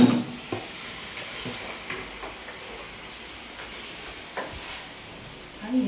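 Mutton curry fries in a pan over a medium flame and gets stirred, giving a soft steady sizzle broken by a few scraping stirs, close by and with no talking.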